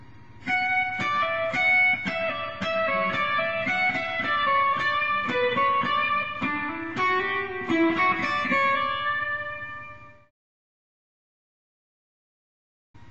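Solo guitar plays measure 21 of Pachelbel's Canon in D, a steady run of plucked single notes with ringing harmonics, close and clear, about ten seconds long before the notes die away into silence.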